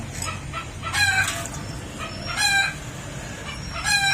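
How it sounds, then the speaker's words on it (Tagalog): Three rooster crows ring out in turn, each a loud harmonic call about a second apart, with a low rumble of background noise underneath. "Ang ingay ng manok."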